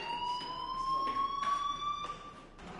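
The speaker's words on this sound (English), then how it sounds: "do you hear that fire alarm?" A fire alarm rings in the video game Life is Strange, a steady electronic siren tone with faint pulsing bursts, held continuously at moderate level throughout without speech.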